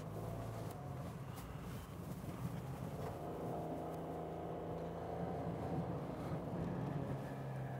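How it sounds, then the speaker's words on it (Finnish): Mitsubishi three-cylinder, naturally aspirated 80 hp engine in an inexpensive automatic car, heard from inside as it starts and drives through Helsinki traffic, a steady low engine drone with road noise throughout, no talking. "80 hevosvoimainen kolmisylinterinen vapaasti hengittää moottori käyntiin"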